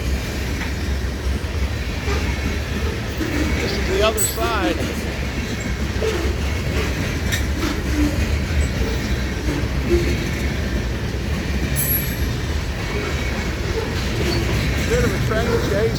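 A freight manifest train led by four locomotives rolls past near Sabina, Ohio, its steady wheel rumble and rhythmic clatter loud and close, with a couple of sharp squeals and a brief spoken remark over it.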